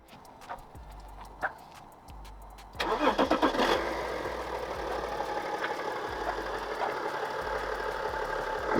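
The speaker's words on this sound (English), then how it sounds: "it sounds almost like a rod knocked N54" A BMW 335d diesel engine cranks with a few sharp clicks, then catches and settles into a loud, close, clattering idle with a rough knocking character, no one talking.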